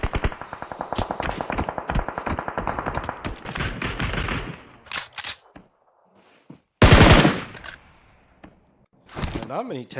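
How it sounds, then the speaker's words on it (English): Rapid automatic gunfire rattles in a battle royale video game, long loud bursts with an M249 among the weapons, followed by a sharp single blast and more shots, while a commentator talks over the action. "They are taking fire."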